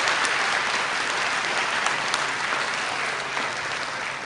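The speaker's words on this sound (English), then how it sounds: "So how about a round of applause for them?" A school spring concert audience claps for the young student musicians, with dense, steady applause filling the room at close range and holding the same level throughout without a break.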